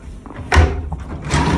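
Two quick wooden knocks and slides, like a drawer being pulled open and pushed shut, close by and fairly loud.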